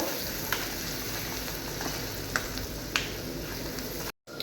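Onions sizzling in a hot pan, a steady close crackle broken by a few faint clinks of stirring, then a brief dropout at the end.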